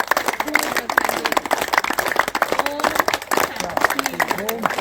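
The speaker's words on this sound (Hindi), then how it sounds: "2 मिनट ताली बजाइए और बीमारी को दूर भगाइए" A seated audience at a Brahma Kumaris International Yoga Day gathering claps steadily and loudly, a dense rapid patter of many hands close by, with voices mixed in under it.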